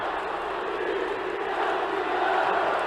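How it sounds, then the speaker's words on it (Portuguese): Vasco da Gama supporters chant at the Maracanã during a 1994 Carioca championship match against Fluminense, a steady, distant wall of crowd voices that swells slightly toward the end. "Torcida do Vasco grita tricampeão"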